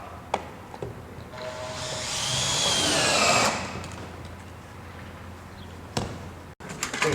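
A power drill drives a fastener through metal head wall flashing on a roof, one rising, whirring burst of about two seconds between scattered knocks and clatters, close by with no talking.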